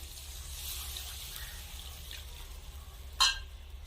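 Steady wet stirring and bubbling of fried spice paste loosened with water in a pan, a continuous close sloshing sizzle with one brief sharp clink of the utensil near the end.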